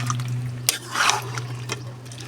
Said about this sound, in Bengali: এই গোশের ভিতরে পানি দিয়ে দিলাম, এই কষানো পানি দিলাম।